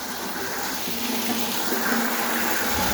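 A pump draining water from a pit gives a steady, continuous rush of gushing water without pause, a constant watery hiss at moderate level.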